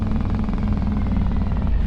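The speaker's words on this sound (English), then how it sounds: "Watch, I'm gonna hit the brakes. You can hear the Jake brake." Engine or Jake brake of a truck in Farming Simulator 25, a steady loud low rumble with a rapid pulsing chatter throughout, close and continuous, no talk.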